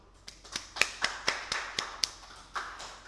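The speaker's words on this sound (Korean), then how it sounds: "박수" Sparse, separate claps ring out in a technical-drawing lecture classroom: about ten sharp, evenly spaced hits from a few students, fairly close and quiet against a silent room.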